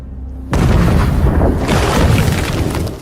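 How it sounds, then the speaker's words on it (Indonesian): A massive ship explosion booms suddenly and rumbles on loudly for a few seconds, a deep roaring blast without any voices. "tepat saat kapal itu meledak"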